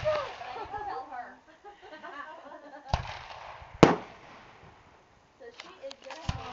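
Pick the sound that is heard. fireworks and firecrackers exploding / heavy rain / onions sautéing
fireworks and firecrackers exploding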